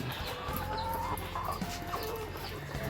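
RTL chickens around 18 weeks old on a poultry farm clucking softly and repeatedly, several short calls over a constant background hum, fairly quiet and close.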